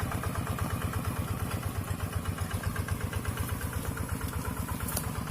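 Small single-cylinder hand tractor engine working a rain-soaked field during ploughing, a steady throbbing chug with rapid regular pulses, fairly close and continuous throughout.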